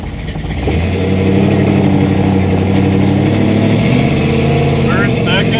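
A 1964 Chevy II engine pulls hard through first gear, a loud, steady rumbling drone with rising harmonics that holds close and continuous from the start, swelling after a brief softer opening.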